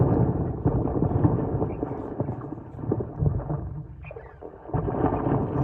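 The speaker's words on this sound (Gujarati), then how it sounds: "મોટર ચાલુ થઈ ગઈ છે અને હવે જો આ ભૂંગળામાં આવશે પાણી" A water pump motor runs in a summer village, sending water rushing through a pipe with a steady, loud, low rumbling churn that swells and dips but never stops.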